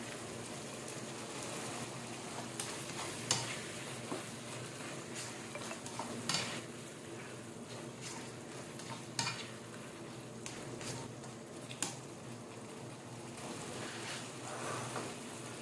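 Sardines simmering and frying in a pan for shrimp and vegetable fritters, a steady low sizzle and bubbling throughout with occasional scrapes and clinks of stirring.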